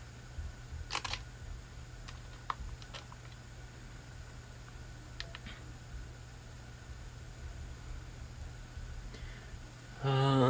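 Several faint, sharp mechanical clicks spaced apart in a quiet room, like a camera shutter firing at slow speed, followed by a louder rustle at the end.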